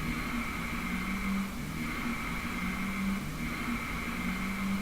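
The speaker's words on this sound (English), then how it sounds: "again this is just car sound" A car engine sound effect plays as a steady droning hum with gentle rises and dips in pitch, moderately loud and unaccompanied by speech.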